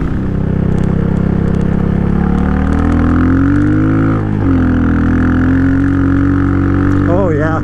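A Royal Enfield Meteor motorcycle ridden off-road, its exhaust a loud steady engine drone that rises and falls slightly as the throttle shifts, close and continuous throughout.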